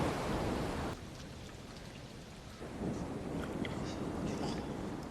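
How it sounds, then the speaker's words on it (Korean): Heavy rain pours in a film storm scene as a stranded castaway shelters in a cave, with a dense, steady roar. It dips briefly near the start, then swells again with rumbling undertones. No one speaks. "또다시 폭우가 쏟아지고 척은 겨우 동굴 안으로 들어가 비를 피합니다."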